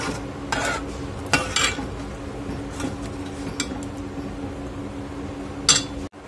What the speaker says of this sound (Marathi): तर आपण यामध्ये राजमा घालून घेणार आहोत आणि छान याला मिक्स करून घ्यायचं आहे